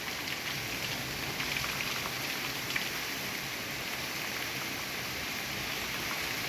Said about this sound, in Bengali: বৃষ্টি পড়তেছে, অনেক অনেক বৃষ্টি।